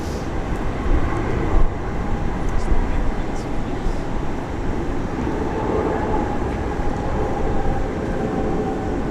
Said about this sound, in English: Nice landing.